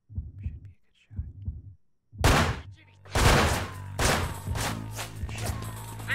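Gunfire from the stealth video game Manhunt: loud broadband bursts strike after quiet low murmuring, followed by a dense cluster of sharp reports and ringing, ongoing game noise.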